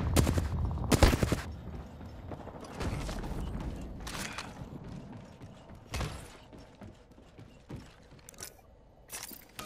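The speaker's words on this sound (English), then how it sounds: "Shooting!" Gunfire in the shooter game Apex Legends: sharp bursts of shots in clusters, loud and close, separated by brief pauses filled with mechanical clicks and clatter.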